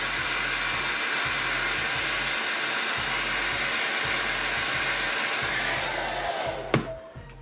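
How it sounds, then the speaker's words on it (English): A hair dryer blows steadily and loudly over a freshly painted Nurgle Poxwalker miniature, with a continuous roaring whoosh that cuts off near the end with a click. "I'll hit this with a with the hairdryer again"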